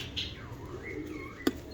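Pigeons, white fancy breed, give soft coos and short chirps at close range, with a sharp flutter or click near the end; no one speaks.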